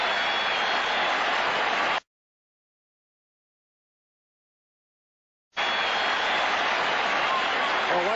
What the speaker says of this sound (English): all the cheering is for the Green Bay defense here at Lambeau Field